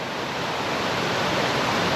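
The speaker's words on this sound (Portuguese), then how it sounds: "A água procurando seu caminho aqui, ó." Water rushes over rocks beside a hiking trail, a loud continuous broadband hiss that holds steady throughout.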